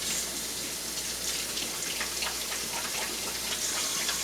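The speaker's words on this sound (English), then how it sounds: "So I'm going to rinse my hands quickly here." Hands rinsed under a running kitchen tap, a steady close hiss and splash of water that holds evenly throughout with no talking.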